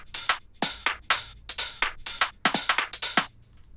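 A future house drum loop of hi-hats, snares, shaker and percussion plays in a tight, punchy rhythm, with crisp bright hits repeating about twice per second, close and loud with no voices.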